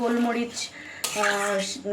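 Masala for methi chicken being stirred and fried in a pan, with utensils clinking and scraping against the metal in two short bursts.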